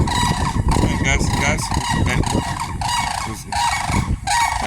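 Turkeys and ginger chickens call all at once from close by in a dense, continuous clamor of clucks and squawks, with a person's voice faintly mixed in.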